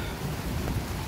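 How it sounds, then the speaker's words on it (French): Rain falling steadily over a small vegetable garden during a May thunderstorm, a continuous broadband patter with low rumbling underneath, no voices. "je m'abrite, ça pleut."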